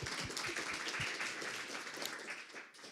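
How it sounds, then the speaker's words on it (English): A seminar audience applauds its presenters with a dense, steady round of clapping in an indoor hall, the many hands blending into an even wash that fades slightly toward the end. "we'll give an extra round of applause for the morning presenters"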